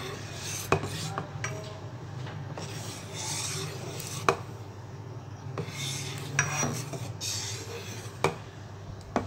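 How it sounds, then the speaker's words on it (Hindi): A spoon keeps stirring rice in a pot for jaggery Bengali kheer, scraping and rubbing steadily with periodic metallic clinks against the pot's side, close and continuous with no talk. "चावल ऐड करके चम्मच आपको मुसलसल चलाते रहना है इसे छोड़ना नहीं है ताकि गुटलियाँ ना बने"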